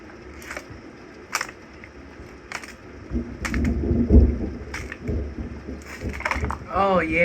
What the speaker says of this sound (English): That thunder's nice and loud.